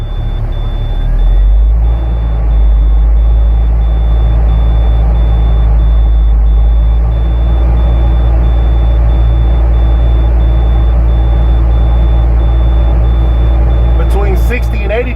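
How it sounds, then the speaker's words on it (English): A loud, deep truck engine rumbles steadily up close as it is revved to build air pressure, with a faint repeated warning beep in the background. "I'm going to step on the accelerator and rev more RPMs"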